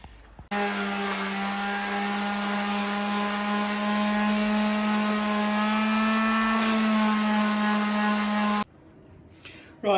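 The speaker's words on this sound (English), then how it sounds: "So I've busted out the mouse detail sander." A mouse detail sander sands chrome vintage S-Works mountain bike parts, switching on with a loud, steady high-pitched electric whine that runs for about eight seconds and then stops.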